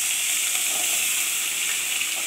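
Diced potatoes drop into hot oil already crackling with mustard seeds, urad dal and chana dal, giving a steady, loud, dense sizzle of frying with no pauses and no voices.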